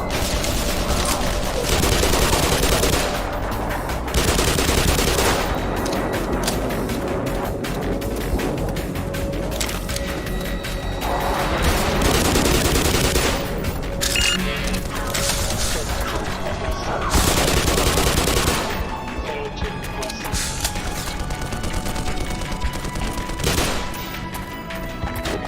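Shotgun blasts and a wider fusillade of gunfire in the video game Black Mesa, with repeated loud booms in bursts across the stretch and a voice talking in between.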